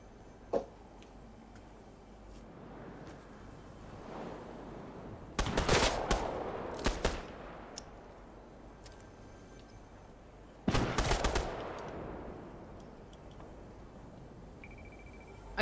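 Video game gunfire: two loud bursts of rapid shots a few seconds apart, each followed by a short decaying tail, plus a few isolated quieter pops over otherwise faint background.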